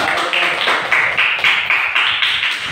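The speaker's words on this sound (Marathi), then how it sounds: "टाळ्या वाजवा ना" A group claps in a steady, even rhythm during a quiz game, with about ten crisp beats close by and no talking over them.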